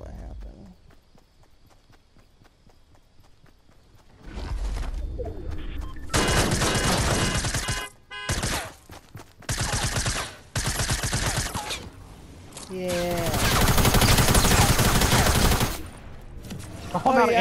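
A semi-automatic sniper rifle fires in a video game, with loud, dense bursts of shots broken by short pauses and a quieter stretch at the start.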